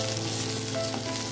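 Small shallots sauté in oil in a kadai for mushroom kuzhambu, giving a steady, close sizzle with a low hum beneath it and no voices.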